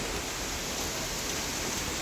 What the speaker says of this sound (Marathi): तर हे बघा इकडे होतोय पाऊस आज